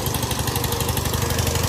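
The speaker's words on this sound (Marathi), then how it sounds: "इथं आता मोटर चालू केले." A motor running to pump water onto a farm field, a steady, low, throbbing engine drone, close and even throughout a brief stretch.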